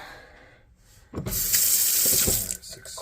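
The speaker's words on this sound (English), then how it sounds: "Let's turn on the hot water now." Hot water gushes from a Delta single handle faucet fitted with a new cartridge, starting abruptly and running steadily and loudly into the sink for about a second and a half before easing off, with no talking.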